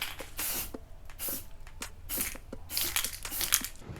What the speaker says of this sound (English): Always make sure you're doing light coats. You never want to just take on spray paint.